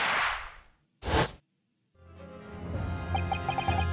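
A fizzing hiss, then one sharp, loud firework bang like a gunshot, followed by brief silence and warbling electronic sounds from The Great Ace Attorney Chronicles.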